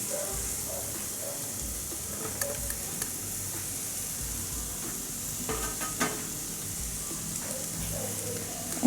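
Long beans being stir-fried in a pan with a coarse coconut mixture of curry leaves, green chili and garlic, giving a soft steady sizzle with light scraping stirs throughout.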